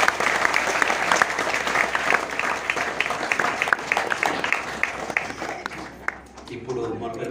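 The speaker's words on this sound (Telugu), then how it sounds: "గట్టిగా చప్పట్లు కొట్టి" A church congregation claps loudly and steadily in a dense, sustained wave of applause that fills the room and only eases slightly at the end.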